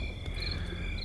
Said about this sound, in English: Sean lays there for a few minutes listening to the crickets